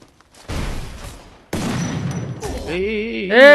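Gunfire in a first-person shooter video game: a sharp burst of shots, then a second, longer stretch of rapid, sustained fire, closing with wavering tonal game effects.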